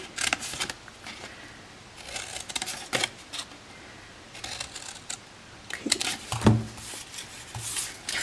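Scissors cut cardstock along score lines while a three-segment gift box is assembled, giving scattered bursts of snipping and paper rustle with quiet gaps between, close by and fairly soft.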